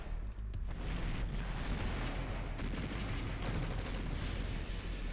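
Artillery fire in the real-time strategy game OpenRA, a continuous heavy roar of overlapping booms and rumbling blasts that does not let up.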